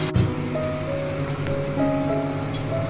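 Chicken pieces lightly frying in a covered pan, a continuous soft, rain-like sizzle with a clatter at the start and no talk.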